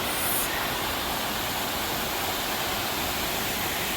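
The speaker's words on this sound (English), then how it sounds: "enjoy the waterfall" A waterfall on the Appalachian Trail in Vermont pours in a steady, dense broadband rush that never lets up, close and loud with no voices over it.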